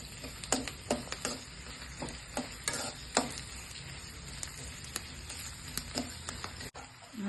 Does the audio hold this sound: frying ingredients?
yes